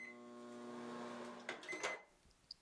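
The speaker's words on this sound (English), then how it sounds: "we will microwave the soap for about 40 seconds" A microwave oven melting soap gives a steady electrical hum with harmonic drone for about one and a half seconds, then stops with a few clicks and clunks as it shuts off.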